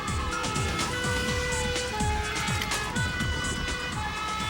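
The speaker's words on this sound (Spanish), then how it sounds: "El ruido de las sirenas les abrió paso" Fire engine sirens wail in busy traffic on the way to an emergency, sustained loud tones layered over rumbling vehicle noise and repeated sweeping pitch changes throughout.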